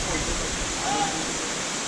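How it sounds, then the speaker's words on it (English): Amboli Ghat waterfall in the hills on the Goa to Mumbai route, a steady broadband rush of falling water heard from a distance, continuous and even with no talk over it. "We are at the Amboli Ghat, and that's the Amboli Ghat waterfall."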